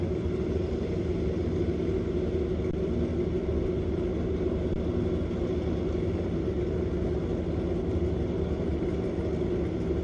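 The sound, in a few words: Kawasaki motorcycle engine at drag race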